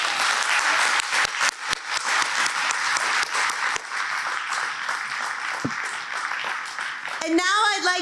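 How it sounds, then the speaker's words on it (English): Audience at a college graduation ceremony applauding the graduating seniors, a sustained wash of clapping with sharper individual claps early on, ending as a voice begins speaking. "Give them a big hand of applause."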